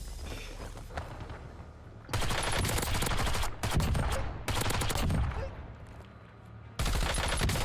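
An FG42 machine gun fires in long bursts in Call of Duty Warzone, loud sustained automatic fire broken by short pauses, with quieter game ambience in the gaps.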